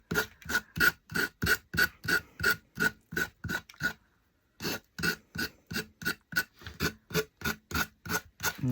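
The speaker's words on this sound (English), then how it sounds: "Now I'm just going around the edges with my finger sander." A finger sander works around the edges of a craft pumpkin in a steady run of close, rasping strokes, with one short pause midway and no talking.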